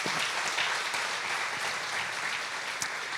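Church congregation applause fills the space as a loud, continuous and dense patter of many hands clapping, with no talking over it.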